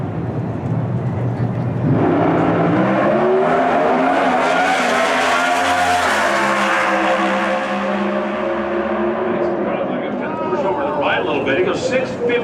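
Pro Stock drag race car making a qualifying pass at the NHRA Finals, engine roaring up hard through rapid gear changes and fading away down the strip, while a commentator talks over it.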